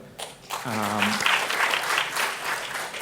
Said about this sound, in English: a big, huge round of applause for the gentlemen here